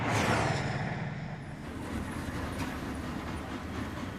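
A train rolls along the rails with a steady, close rumble and faint rhythmic clatter, louder at the start and then evening out, with no voices.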